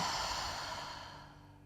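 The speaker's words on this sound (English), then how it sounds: "let the exhale wash through you fully" A single slow, deep exhale of breath close to the listener, soft and airy, fading gradually away in a quiet room.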